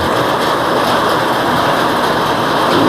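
A coconut dehusking machine drones steadily, a dense mechanical rumble with a harsh broadband whir that holds constant throughout, close by and with no talking.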